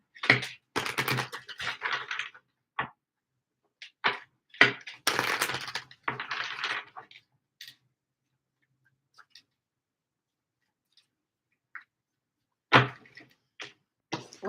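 Tarot cards being shuffled by hand, a few bursts of riffling and flicking snaps in quick clusters, separated by long silent gaps, close and fairly quiet.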